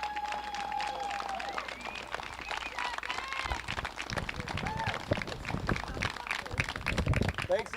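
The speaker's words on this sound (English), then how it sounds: "our 2023 seniors, let's give them one more round of applause" A crowd at an outdoor high school baseball game applauds graduating seniors, scattered claps and cheers spread across the field beneath people talking.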